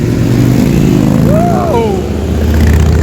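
A BMW S1000 RR sport motorcycle revs loudly and steadily at close range among supercars on a Mumbai street, its engine roar dense and continuous with a brief rising pitch sweep midway and no talk.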